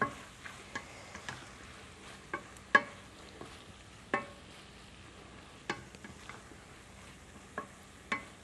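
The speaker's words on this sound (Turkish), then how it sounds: "Şimdi tekrardan hemen şöyle bir güzelce karıştırıyorum." Food being stirred in a pan alongside cooking meatballs and rice: a spoon scrapes softly under a faint sizzle, with sharp utensil clicks against the pan coming at irregular intervals, close and without talk.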